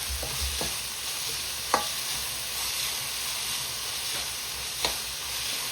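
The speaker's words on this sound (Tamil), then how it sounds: "இது எல்லாத்தையும் நல்ல வடிவாக மிக்ஸ் பண்ணி விடுவோம்" Chicken fried rice stirred in a hot pan, a continuous soft sizzle with occasional sharp clicks of a spatula against the pan, close up and without talk.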